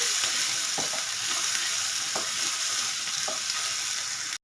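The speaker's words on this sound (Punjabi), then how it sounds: "ਪਾ ਦਾਂਗੀ ਮੈਂ ਜੀਰਾ ਤੇ ਨਾਲ ਹੀ ਪਾ ਦਾਂਗੇ ਪਿਆਜ਼ ਸੋ ਪਿਆਜ਼ਾਂ ਨੂੰ ਗੋਲਡਨ ਬ੍ਰਾਊਨ ਕਰਾਂਗੇ" Onions and cumin sizzle in a pan, a loud continuous hiss with occasional scraping stirs, cutting off abruptly at the end.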